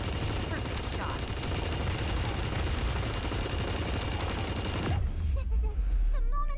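Gatling gun fire in the Super Mecha Champions video game pours out as a dense, loud, continuous roar of rapid shots for about five seconds, then cuts to quieter game sounds.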